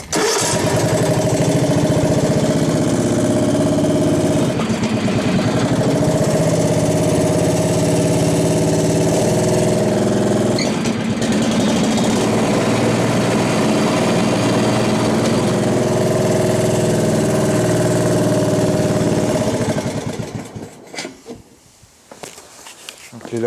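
Worn Toro ride-on mower with its engine running steadily and blades engaged, a loud continuous mechanical drone close by that cuts off near the end, leaving a faint tail.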